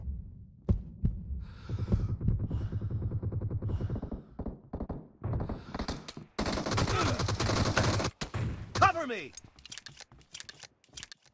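Pistol fire in PUBG Mobile's gun-race mode on the new library map: sharp single shots and short bursts crack over a low throbbing in-game drone, with a voice talking throughout.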